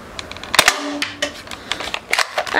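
A Nerf Disruptor foam-dart blaster fires in a string of sharp, close snapping shots, several within under three seconds, mixed with mechanical clicks and handling noise.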